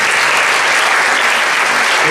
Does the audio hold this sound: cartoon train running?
no